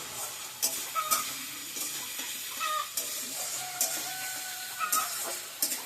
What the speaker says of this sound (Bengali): আলুটা ভাজা প্রায় হয়ে এসছে।